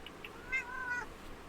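A house cat meows once, a short faint call heard close by over a quiet room background.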